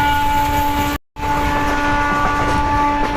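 Indian intercity express train between Indore and Gwalior near Panihar railway station, a loud continuous rumble of wheels on rails with a steady sustained horn tone, briefly cut out for an instant then resuming close and strong.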